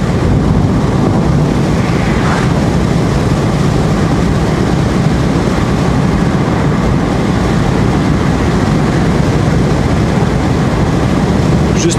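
Steady broadband wind rush fills the cabin of a car driving at the speed limit with its windows lowered, a constant loud roar with low rumble and no speech throughout.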